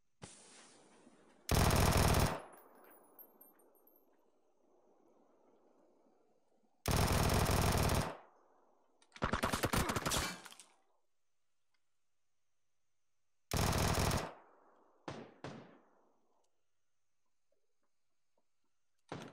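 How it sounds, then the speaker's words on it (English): Bursts of gunfire from a road bridge in the video game PUBG, heard as several loud separate volleys of rapid shots with long quiet gaps between them. "Somebody shooting on the road, on the bridge."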